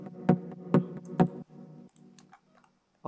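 Three sharp, percussive plucked synth hits made with the Serum plugin, evenly spaced and loud, followed by quieter, sparser ticking tones that fade out, ending with one faint late hit.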